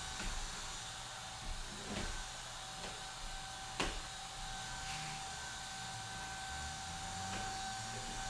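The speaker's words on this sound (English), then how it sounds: "where's my vacuum?" A vacuum cleaner runs steadily with a constant whine and hiss during spring cleaning at home, droning unbroken throughout with a few faint knocks and bumps.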